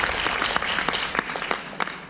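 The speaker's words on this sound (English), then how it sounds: "Let's give all the diamonds and all the FCs a big round of applause." A crowd at an Amway business gathering claps in a brief, dense burst of applause, close and steady with a few sharper individual claps standing out.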